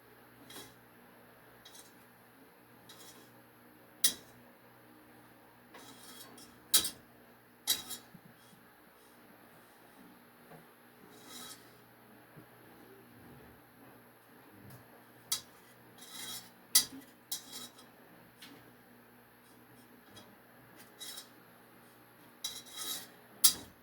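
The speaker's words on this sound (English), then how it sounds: "You stir it up. It's a little stiff at first." A whisk stirs a stiff homemade hand sanitizer mixture in a bowl, giving intermittent close scraping and clinking strokes against the container with quiet gaps between them.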